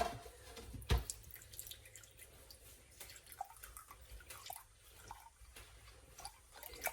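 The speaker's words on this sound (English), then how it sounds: "I'm going to start with 1 cup of beef stock." Beef stock poured into an Instant Pot while cooking penne pasta, a soft, steady liquid trickle with light splashes and one sharp knock near the start, heard close with no talking.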